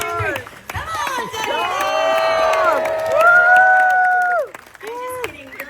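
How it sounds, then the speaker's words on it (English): A live audience at an actor interview event cheers and whoops with sustained, rising voices over scattered clapping, holding loud for several seconds before fading into a brief final shout. "Give yourselves a big round of applause."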